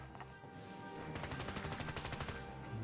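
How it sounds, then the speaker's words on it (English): Rapid bursts of automatic gunfire in a video game crackle at a moderate distance, coming in quick rhythmic volleys that build and continue throughout. "there's gunfire behind us"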